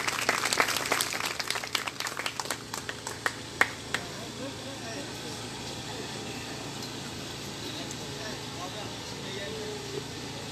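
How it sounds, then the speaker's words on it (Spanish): An audience applauds to encourage a young girl about to recite a poem at a political conference in Mexico: scattered sharp claps burst loudly at first, then thin out and fade into room hum. "Un aplauso para la compañerita para que se anime"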